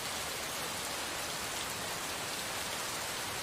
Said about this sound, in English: What are you doing out in the rain?